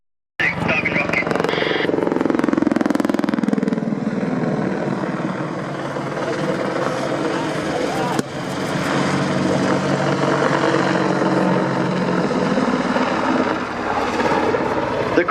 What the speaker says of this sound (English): The Apache is of course usually operated in pairs and can be teamed with other platforms such as the Wildcat.